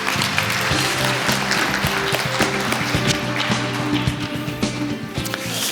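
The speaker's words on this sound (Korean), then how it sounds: "박수로 맞이해 주십시오" An audience at a 2018 keynote session applauds to welcome two speakers, a broad wash of clapping that carries on evenly alongside tonal music playing underneath.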